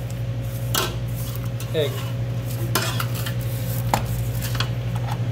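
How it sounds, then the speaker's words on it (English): A spatula scraping the sides and bottom of a mixer bowl of creamed butter and sugar, with several short clinking scrapes over a loud steady hum and a brief spoken word. "scrape the sides, really getting that bottom so there's no random chunks of sugar, butter, or"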